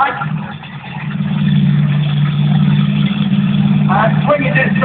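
Bigfoot 17 monster truck at Yarmouth Stadium, driving crab-like and swinging around, its engine a loud steady drone that swells after a brief dip, with an announcer speaking over it throughout.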